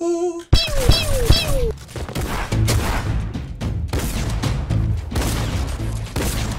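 Powerful gunfire in Fortnite: after a few rising electronic tones, a rapid, loud volley of shots and impacts rattles on for several seconds, with building and crashing noises mixed in.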